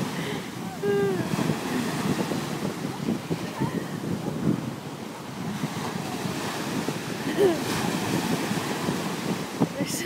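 Ocean waves and surf at a beach where people are boogie boarding roll and wash steadily, with strong wind buffeting the microphone throughout and faint voices in the background.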